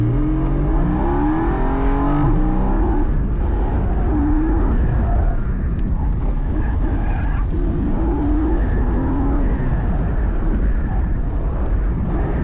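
On an autocross course, a manual Porsche GT4 sports car is heard from on board, its engine rising and falling through repeated accelerations under steady road and wind roar.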